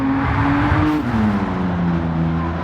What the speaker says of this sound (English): starting our flying lap with the Lamborghini Countach QVX